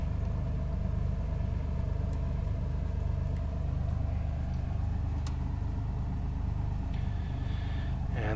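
A Cessna C182 piston engine idles steadily at 1000 RPM with the brake set, a constant low rumbling drone that fills the whole stretch with no talk over it.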